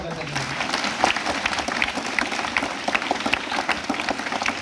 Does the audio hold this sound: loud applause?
yes